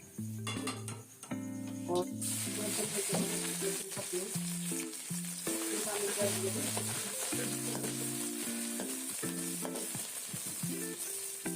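Whole spices (cardamom, cinnamon, black pepper and cloves) sizzling and being stirred in hot oil for white beef pulao, a steady close frying hiss throughout with tonal background music.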